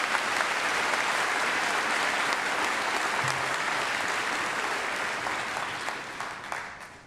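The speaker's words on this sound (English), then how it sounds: "Please join me in a round of applause." A large audience at a college commencement ceremony gives a round of applause, a dense, steady wash of clapping that holds full for several seconds and then gradually thins and fades toward the end.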